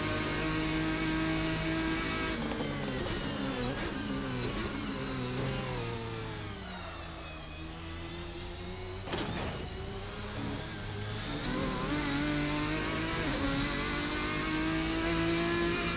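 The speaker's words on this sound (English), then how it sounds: "This power and the speed, because this is, I think, another V12 car." A V12 race car engine in the Assetto Corsa racing game, loud and continuous, revving through rising gear pulls with a brief lift and drop in pitch midway before climbing again.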